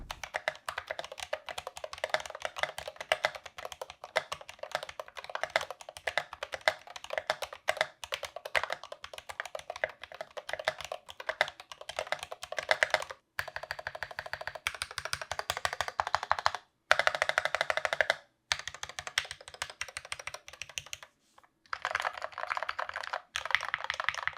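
Steady, rapid typing on a Space Stellar65 keyboard with SA keycaps gives a dense run of close, deep clacking keystrokes with a few short pauses and no talking.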